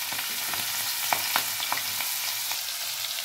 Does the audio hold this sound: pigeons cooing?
no